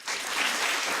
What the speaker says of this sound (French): Anthony finit sous les applaudissements.